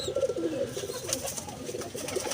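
A high-flyer pigeon coos in soft, low, repeated throaty calls, close by, with faint background noise.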